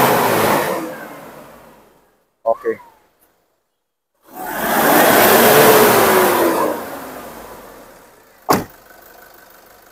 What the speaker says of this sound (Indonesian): Nah, ini mesin jadi suaranya lebih kering, sama lebih halus.